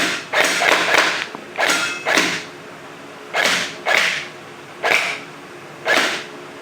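A Scar toy blaster fires in seven or so separate bursts, each a sharp whooshing crack, some in quick pairs and others spaced out, close and loud with quiet gaps between.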